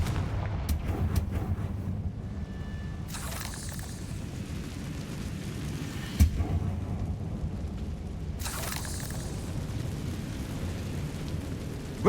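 Confringo fire spell blasts in Hogwarts Legacy erupt as heavy explosive booms over a constant low roar, with one sharp impact near the middle and broad bursts of fiery rush rising and fading.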